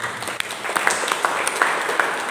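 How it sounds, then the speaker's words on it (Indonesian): Congregation applause during a church sermon, a moderate, fairly sparse patter of individual claps with distinct sharp hits standing out from a lighter wash. "Berikan tepuk tangan bagi itu."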